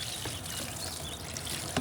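Liquid pours and trickles during a varroa mite alcohol wash of honeybees, a soft, continuous splashing stream heard close but fairly quiet.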